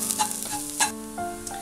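Turmeric, coriander and garam masala powders fry in hot oil with onions while being stirred, a close, steady sizzle with scraping stir strokes every half second or so.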